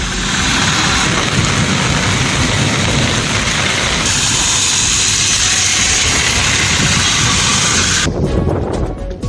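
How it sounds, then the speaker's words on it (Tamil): Heavy rain pours down steadily in Thoothukudi during an evening storm with thunder, lightning and strong wind, a dense loud roar of rainfall with rumbling underneath that drops away abruptly near the end. "தூத்துக்குடியில் நேற்று மாலை இடி மின்னல் மற்றும் பலத்த காற்றுடன் கனமழை பெய்தது."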